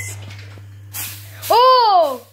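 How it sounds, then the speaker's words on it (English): Cooking spray hisses briefly onto a pan for pancakes, a short close burst at the end, with a voice and a steady low hum heard alongside. "Right, spray."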